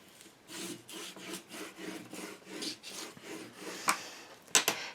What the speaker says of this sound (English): then I'm going to burnish down, especially get those corners and the edges really good